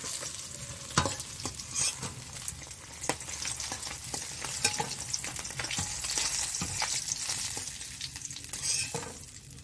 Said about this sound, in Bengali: আমার মাছগুলো ভালো করে ভেজে নিয়েছি, এবার আমি মাছগুলো তুলে নেব।